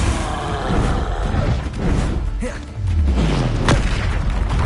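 Confringo blasting spell exploding in a Harry Potter video game, a loud booming crash with a deep falling rumble midway and a sharp crack near the end, amid dense game effects.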